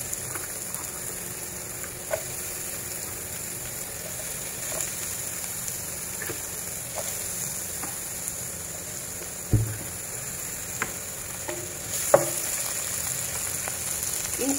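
Garlic and white onion fry in a couple of spoons of cooking oil with a soft, steady sizzle, faint and close, broken by a few light clicks of stirring.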